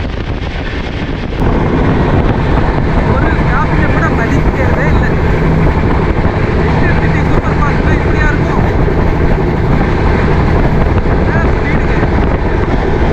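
A Chennai Central to Coimbatore express train runs at high speed along the track, a loud, continuous rumbling roar with rushing wind filling the whole stretch from near the start.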